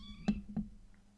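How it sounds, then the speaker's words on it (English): A baby kitten, about to be fed milk from a syringe, gives two short, high mews about a third of a second apart, fairly faint and close, then quiet. "I'm going to feed a baby kitty"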